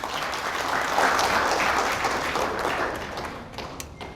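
Crowd applause for a speaker at an Indonesian gathering on people's economy, a loud sustained burst of many hands clapping close by, easing slightly toward the end with scattered sharper claps.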